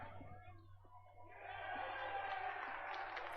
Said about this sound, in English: Applause here from the Thunder crowd as Coach fields it off the net